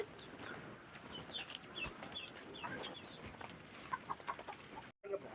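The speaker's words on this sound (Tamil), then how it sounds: "நாட்டு கோழி பிடிச்சாச்சு" Country chickens clucking faintly outdoors, scattered calls over steady background noise, with a brief moment of silence near the end.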